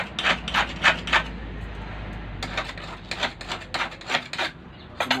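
A gonting bolo blade being sharpened: bursts of rasping strokes on a stone, several quick scrapes, a pause, then another run of strokes, close and fairly loud.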